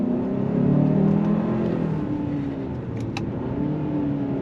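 A front-wheel-drive 2024 Hyundai Santa Fe Limited midsize SUV accelerates, its engine note rising and falling through smooth downshifts, a steady interior drone heard close up with no voices.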